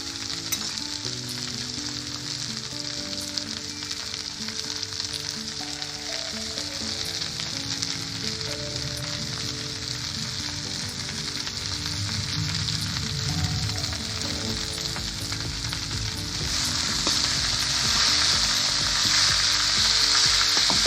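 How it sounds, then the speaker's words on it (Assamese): Potatoes fry in hot oil with jilmil greens and tomato, a loud, steady sizzle that carries on without a break, briefly interrupted by stirring and growing brighter and hissier near the end. "আলুখিনি অকণমান ভাজি ল'লোঁ আৰু এতিয়া দিম ইয়াতে জিলমিল আৰু বিলাহী"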